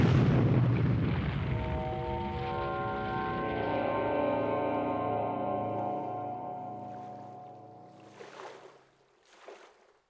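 A torpedo is fired from the submarine HMCS Corner Brook: a heavy rushing burst opens into a long, resonant, tonal hum that slowly fades, followed by a couple of faint later bursts.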